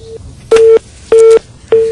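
Dropped telephone line on a news broadcast call, heard as three loud, identical steady tone beeps repeating in an even on-off rhythm, alone with no talk.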